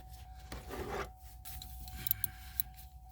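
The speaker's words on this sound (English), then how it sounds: "Using a 8mm socket on this." 8mm socket wrench working on a car battery post, soft metallic rubbing and a few light clinks and ticks, close and quiet.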